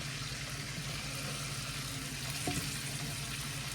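Vegetables, sausage and pepperoni fry in a hot pan for a quiche, giving a steady close sizzle with low hum underneath and one brief clink partway through.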